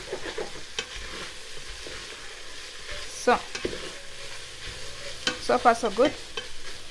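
Garlic frying in a pan with oil for a potato gratin, a steady low sizzle under scraping and stirring clatter, with a few sharper utensil knocks and a brief spoken remark.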